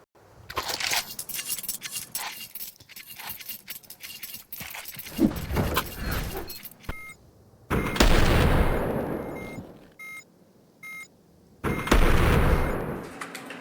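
Rapid rifle gunfire in a Counter-Strike 2 match, sharp bursts and single shots crackling close and loud, with shell-casing tinkles between volleys and a few short pauses before heavy final bursts.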